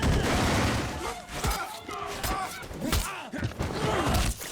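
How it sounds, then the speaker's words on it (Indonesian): Gunfire in an action film: rapid overlapping shots and heavy thuds crackle through a chaotic, loud scene with brief gaps, with voices faintly among the blasts. "Tembakan di mana-mana, itu sangat kacau."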